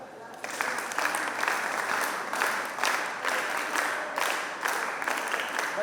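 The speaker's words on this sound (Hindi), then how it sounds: "बहुत बढ़िया क्वेश्चन, तालियां" A group claps in applause after a good question at a disaster rescue training session, steady rhythmic clapping in several swelling bursts, fairly close, with a voice speaking over it.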